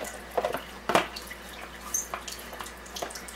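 Water runs through an SD501 during cleaning, with irregular close drips and splashes over a quiet wash of flow, alone without talk.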